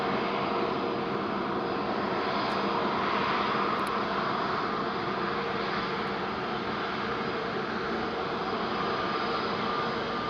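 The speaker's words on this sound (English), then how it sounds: "back-to-back 2 flights coming, Discover from Frankfurt and the private-owned Piper Malibu inbound from Cascais" A steady, loud aircraft engine roar at Madeira Island Airport, with no break as an arriving plane passes.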